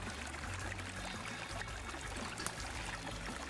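A small, fast-moving mountain stream a few feet wide in Montana rushes and splashes steadily, close and continuous with no voices.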